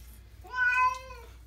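A cat being given an oatmeal bath lets out one drawn-out, plaintive meow, close and clear, rising then holding before fading, against a quiet background.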